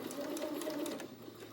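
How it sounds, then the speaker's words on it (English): A sewing machine runs steadily for a brief moment, back stitching through fabric for a pleated face mask, its motor hum and needle chatter close and continuous. "I'm going to back stitch back up near the top edge and then carry on"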